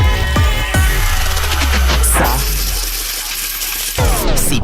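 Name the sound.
coins dropping sound effect, cash jingle on radio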